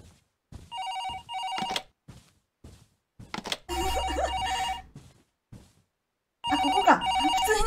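Telephone ringing in the horror video game Paranormal HK, an electronic ring repeating in loud bursts separated by brief silences, with one longer pause before it resumes.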